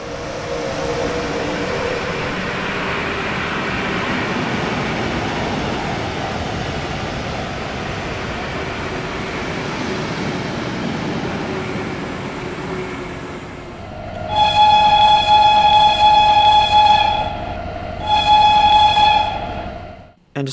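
BR110 locomotive driven on the Bremen to Oldenburg line in Train Sim World 3, a steady rumble of rolling wheels that fades, followed by two loud sustained horn blasts, no talk.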